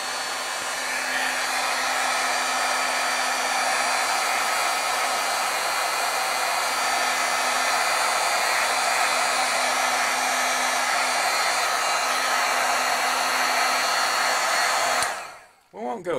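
A heat tool blows steadily while setting stamped ink, a loud, even whirring hiss held close for about fifteen seconds before it switches off with a brief dying whir.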